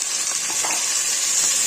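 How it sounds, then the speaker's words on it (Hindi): Tomatoes fry with onions in a pan for matar pulao, a continuous close crackling sizzle with soft stirring underneath and no talking. "टमाटर डाल के हम इसे थोड़ा फ्राई कर देंगे।"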